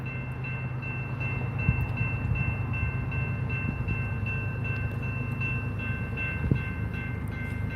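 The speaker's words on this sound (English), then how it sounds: "No, actually, this sounds like a Gevo." A Norfolk Southern GE Evolution Series locomotive rumbles past at steady volume, its low diesel drone continuous throughout, with faint rail clatter and a sharp knock near the end.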